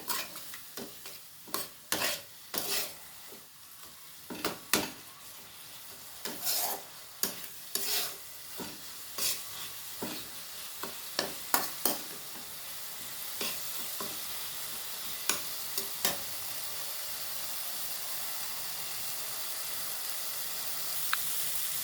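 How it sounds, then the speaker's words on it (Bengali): Turmeric-laced spice paste with a splash of water fries in a pan for a crab curry, a steady sizzle broken by repeated sharp scrapes and clacks of a stirring spoon, close and fairly loud. "হলুদ দেব পরিমাণ মতো দিয়ে আবারও একটু জল দেব দিয়ে মশলাটা ভালোভাবে কষিয়ে নেবো"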